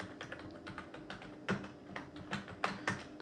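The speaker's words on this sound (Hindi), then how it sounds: "यहाँ पर कुछ भी टाइप करता हूँ" Quick, uneven clicking of computer keyboard keys while text is typed into CorelDraw X8, with several sharper keystrokes standing out among the softer taps, close and quiet with no talking.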